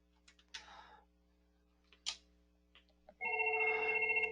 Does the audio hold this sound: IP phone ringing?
yes